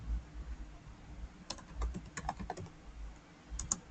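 Keys tapped on a computer keyboard in short, uneven bursts of soft clicks, close but quiet, over a low background hum.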